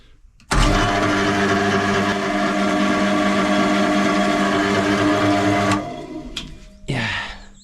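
An old pump motor long unused in a tiny shed starts abruptly and runs with a loud, steady mechanical drone and whine for about five seconds, then cuts off and spins down, followed by brief clunks.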